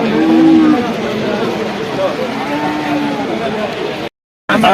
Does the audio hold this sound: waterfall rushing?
no